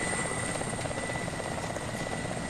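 A military helicopter idles loud and close on a landing zone during army officer training, its steady rotor roar and high turbine whine filling every moment without a break.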